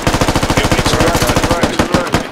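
A machine gun in the tactical shooter Squad fires a rapid, steady automatic burst, close and loud, the rounds tapering into a few spaced final shots.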